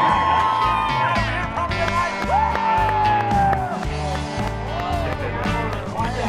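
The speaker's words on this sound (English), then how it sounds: "The crowd out here at the rodeo is a lot of fun, very electric. You know, everyone's getting hyped up and cheering together." A rodeo crowd in Lander cheers and whoops, a broad wash of voices and shouts mixed with loud background music and announcer-like tones, continuous and energetic.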